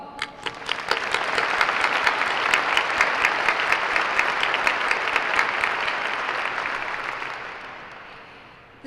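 A large audience applauds at a military change of command ceremony for the 60th Air Mobility Wing, loud, dense sustained clapping that swells, holds for several seconds and then gradually fades out.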